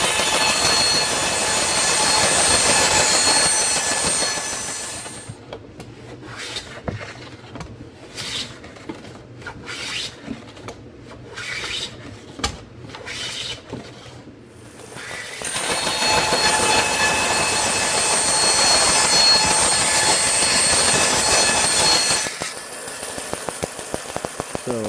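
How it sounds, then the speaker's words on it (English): A bandsaw rips an ebony guitar fretboard, a loud steady whining roar that dips into an uneven rasping cut with short bursts, then returns to the full continuous drone. "and then to the bandsaw"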